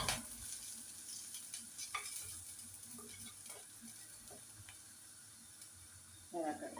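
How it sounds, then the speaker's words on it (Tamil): Crushed ginger and garlic sautéing in a pan, a soft, steady sizzle with occasional stirring scrapes and clinks, faint and close, ending with a brief burst of louder frying. "வதங்கட்டும்."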